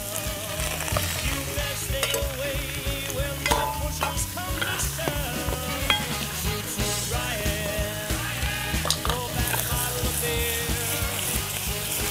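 Meat frying in a casserole for arròs a la cassola, a dense, steady crackle and pop of hot oil with occasional stirring clatter, close and continuous.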